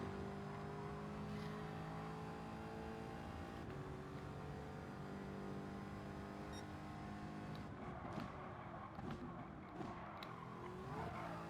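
A race car in Gran Turismo 7 runs flat out with traction control off, its engine a continuous loud drone with shifting pitch and some tire squeal toward the end.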